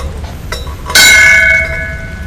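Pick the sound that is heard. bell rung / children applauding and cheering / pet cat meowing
bell rung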